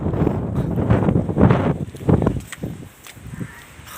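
Wind blows across a hilltop near a dam and buffets the microphone in loud, uneven low gusts that ease off toward the end.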